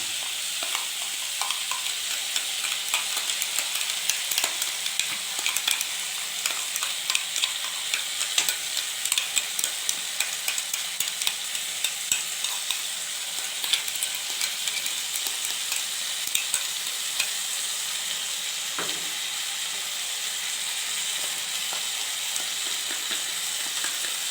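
Tomatoes frying in a pan with ginger-garlic paste for an eggplant curry, a steady bright sizzle with repeated scraping stirs of a spoon, close and continuous with no talking.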